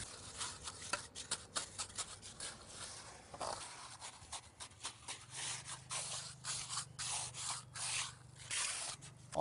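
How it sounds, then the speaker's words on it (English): Wet Sakrete concrete slab screeded with a board pushed in a back-and-forth sawing motion, giving close, steady scraping and rubbing strokes in a repeating rhythm with faint wet dripping and no talk. "You'll notice we're moving the board in a sawing action."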